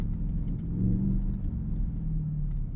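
Ford F-150 Raptor R, a 700-horsepower pickup, drives off-road through a puddle, its engine a low heavy rumble heard from inside the cab with a brief swell, no one speaking.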